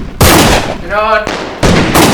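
Loud, close gunshot-like blasts, three broad bursts separated by brief pauses with a short voiced sound between them.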